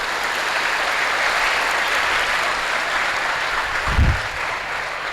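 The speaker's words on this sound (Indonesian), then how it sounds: "Tolong kasih aplaus bagi panitia" Audience applause at a Maulid Nabi commemoration at an Islamic boarding school, a steady broad wash of clapping from a crowd across the whole stretch, with a brief low thump near the end.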